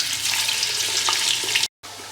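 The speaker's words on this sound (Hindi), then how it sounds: "अब इसके अंदर हम ये जो हमारे चॉप्ड प्याज हैं इनको डाल देते हैं।" Chopped onions hit hot spices in a pan for a mutton curry, giving a steady, close, loud sizzle of frying that runs unbroken, then cuts out abruptly for a moment before resuming.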